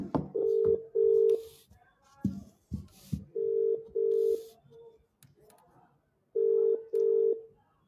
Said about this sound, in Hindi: वो कहीं यात्रा पर हैं तो हम उनसे फोन लाइन पर कनेक्ट करने की कोशिश करेंगे।